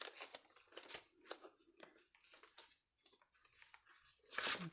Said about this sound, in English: I love the sound of the paper.